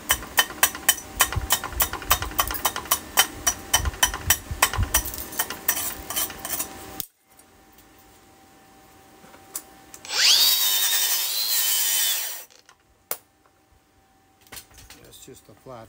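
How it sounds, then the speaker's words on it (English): Flat weld laid with a Tooliom 200 amp dual-voltage stick welder: steady crackling, sputtering arc noise up close for about seven seconds, then quieter rustling and a short loud hissing burst, with some speech-like sounds mixed in. "Just a flat weld."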